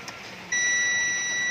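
A multimeter's continuity buzzer on a TV mainboard, checking for a short, sounds a steady, loud, high-pitched tone. It starts abruptly after a brief quiet moment and holds unbroken to the end.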